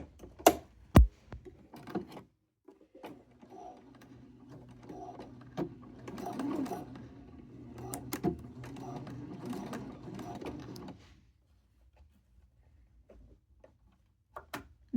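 A sewing machine runs a straight stitch attaching elastic to cycling bibs, sounding as short ticking bursts and then a steadier whirring run of several seconds before stopping, with sharp clicks at the start and end and nobody talking.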